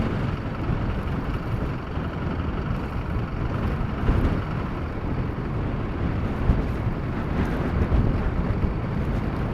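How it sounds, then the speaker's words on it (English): Strong wind roars steadily through a snow storm during a blizzard, a dense broadband rush with gusty swells and buffeting close to the microphone, with no voices. "Should protect me much better from the wind."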